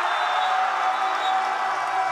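Crowd roaring and cheering at a women's 3x3 basketball game between Uganda and China, a steady dense wash of voices filling the arena at even, loud level throughout.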